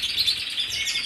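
A male bird chirping nearby, a bright continuous run of high twittering notes, clear and fairly loud, with no voices.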